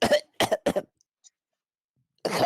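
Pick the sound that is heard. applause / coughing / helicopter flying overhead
coughing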